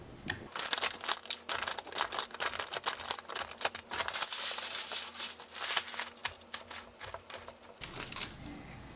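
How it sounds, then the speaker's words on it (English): Soil mixed with perlite being scooped into a pot for ric rac cactus cuttings, giving continuous crinkly, gritty rustling and scraping close up, alone and without talk. "So we're going to fill our pot with soil and we'll lay them flat"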